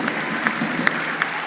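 A studio audience at a podcast interview gives a short burst of applause, a light patter of claps with a few sharper slaps, fairly quiet and with no talk over it.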